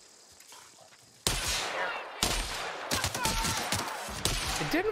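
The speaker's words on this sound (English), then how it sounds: "Oh, look, I get another chance to shoot him in the face." Gunfire in The Outer Worlds: quiet at first, then a loud shot erupts, followed by a string of sharp, close blasts spaced about a second apart, each trailing into a ringing tail.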